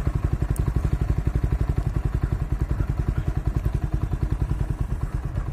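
Motorcycle engine idling just after a cold start following ten days of storage with an old battery, a loud close steady chugging beat of rapid regular thumps, with no talk.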